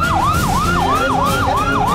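An ambulance siren wails in a rapid repeating up-and-down sweep, loud and close, steady throughout with no voices.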